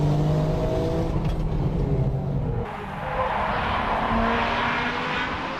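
Nissan Nismo and Ferrari 360 Modena race cars accelerate hard on a track, loud engine roar shifting in pitch as they climb a final hill, alone without talk.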